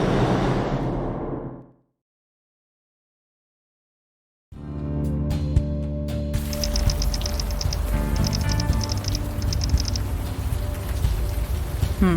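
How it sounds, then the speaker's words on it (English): Steady rain ambience in the video game Unavowed, a continuous hiss that drops to silence for a few seconds and then returns alongside game sounds and faint chiming tones. "Still raining."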